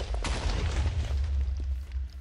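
A deep, rumbling boom with a rough, crackling tail from a TNT cannon firing in a blocky video game, moderately loud and up close.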